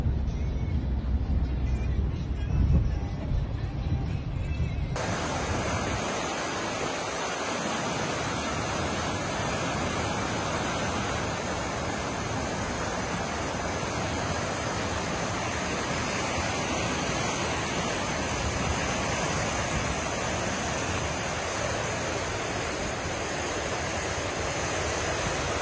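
Floodwater overflowing a creek during California flooding produces a steady, dense roaring rush that continues unbroken throughout, loud and close, with a brief muffled stretch at the start.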